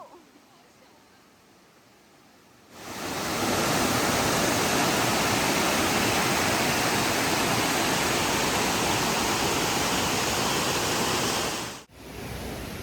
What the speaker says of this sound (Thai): ฝนตกอีกแล้วค่ะทุกคน